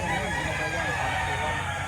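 A rooster crows amid a crowded chicken market in Lipa, Batangas, its call blending into dense clucking and bird noise, with people talking nearby over the steady din.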